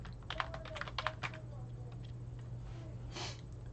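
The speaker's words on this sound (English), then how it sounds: "let me connect the typewriter and get to clacking" Keys clack rapidly on a typewriter hooked up for sound effects, a quick close burst of taps that slows and thins out, then a softer rustle at the end over a low steady hum.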